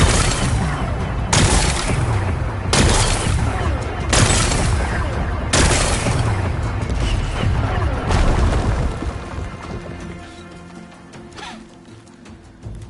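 Video game explosions blast away rocks to expose a power cell, a rapid series of loud, booming detonations with crashing debris, several overlapping blasts in quick succession before fading into a quieter rumble.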